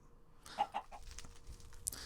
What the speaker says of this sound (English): these are some of the base chickens we'll use to get bigger and better chickens